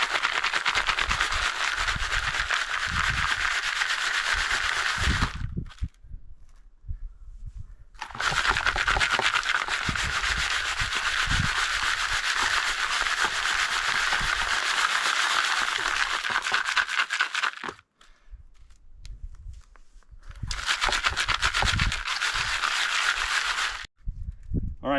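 Dug material from gold prospecting is shaken through a 20 or 30 mesh screen. It makes a loud, continuous gritty rattling and scraping in three long bursts, with short quiet pauses between them.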